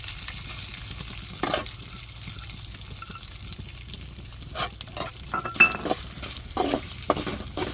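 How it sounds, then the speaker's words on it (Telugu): Curry leaves and grated coconut frying in a pan for a country chicken broth, a steady soft sizzle with occasional clinks and scrapes of a spoon stirring, growing busier toward the end; no talking. "దీన్ని బాగా వేయించుకోవాలి బ్రౌన్ కలర్లో వచ్చేలాగా బంగారు వర్ణంలో వచ్చేలాగా వేయించుకోండి"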